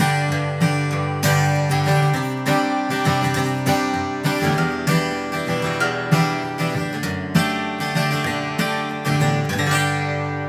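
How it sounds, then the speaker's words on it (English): A solo acoustic guitar is strummed steadily with bass notes woven in, giving a full, rhythmic, close-sounding wash of chords over about ten seconds, with no voices. "I mentioned the example of a solo acoustic guitar player"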